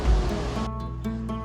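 Loud rushing water at a park roars close by as a broad, steady wash that drops slightly in the second half but keeps going throughout.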